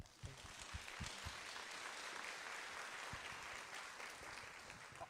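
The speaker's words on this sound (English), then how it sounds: "So, give them a round of applause." Audience applause at an estate planning seminar, a steady wash of many hands clapping that fills the whole stretch, with a few sharper individual claps standing out near the start.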